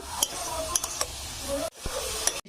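Pitha dough for a banana-leaf pitha being stirred in a pan over low heat, close scraping and clinking strokes with soft sizzling, several sharp utensil knocks against the pan.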